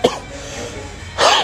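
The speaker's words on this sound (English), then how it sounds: "I'm just coughing" Two sharp coughs, one at the start and a louder, harsher one near the end, each close to the microphone with a quiet pause between.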